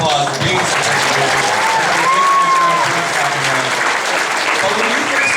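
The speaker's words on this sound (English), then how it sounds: "yes, a round of applause for being so busy" A large comic convention crowd applauds actor Jon Bernthal at Wizard World Sacramento Comic-Con 2014, with sustained, loud clapping throughout and a few whoops and cheering voices riding on top.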